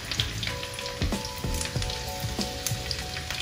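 Garlic frying in hot oil in a pan before chillies are added for paneer Maggi, a close, bright crackling sizzle with a few spoon scrapes and clinks, steady and without talk.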